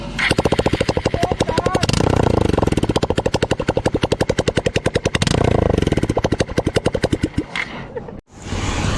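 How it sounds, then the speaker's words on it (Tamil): A Bajaj Pulsar 220F motorcycle engine runs with no silencer, exhaust open at the header pipes, giving a loud, harsh, rapid staccato crackle of firing pulses that swells into denser bursts of revving and cuts off abruptly near the end. "சைலன்சர் எதுவுமே இல்லாமல் ஆன் பண்ணி பார்க்கலாம்."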